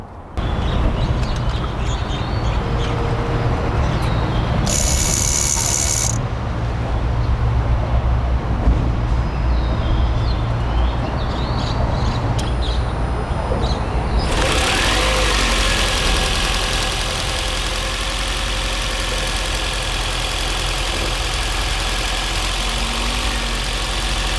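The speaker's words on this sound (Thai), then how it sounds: "มาฟังเสียงเครื่องยนต์กัน" A Toyota Camry AHV40 hybrid engine idling steadily for a long stretch, a constant low hum that grows broader and louder partway through, heard close up.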